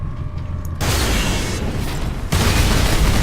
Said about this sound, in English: those explosions can hurt you